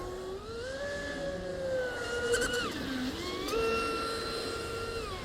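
A FLIER 400a RC speedboat with an upgraded SonicWake 48 motor on 12s power runs on open water, its high electric whine steady then dipping and climbing again as the throttle changes, loud and close without talk.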